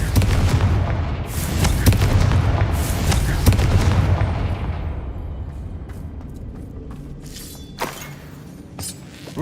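An explosive blasting spell goes off inside an old closed mine in a Hogwarts video game: a loud booming blast with sharp cracking bursts that rumbles and slowly fades, followed by a few scattered smaller pops and debris clatter.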